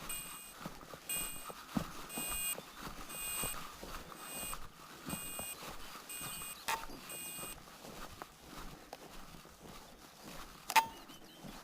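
The ESC on a custom RC boat, the Carbon King, running on 6S, gives a string of short, thin, high electronic beeps in a steady repeating pattern, followed by a few scattered clicks and one sharper tick near the end.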